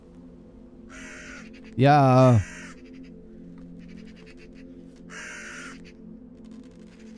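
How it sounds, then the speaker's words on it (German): A single loud, harsh crow caw in a horror video game, standing out against a low ambient drone, with faint bird-like chirps later and someone speaking briefly. "So Krähenvögel gibt es ja relativ viele."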